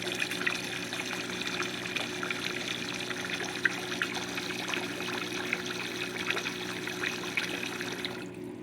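A pink 1950 Standard one-piece toilet's tank fill valve refills quietly with water, a steady, even trickle and hiss that runs on unchanged before cutting off at the very end.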